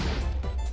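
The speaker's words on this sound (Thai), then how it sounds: "เสียงระเบิดเหมือนมีอุกกาบาตตกเลยทุกคน" A sudden booming explosion from Minecraft gameplay, a single loud crash-like burst lasting under a second, dense and close with no talk over it.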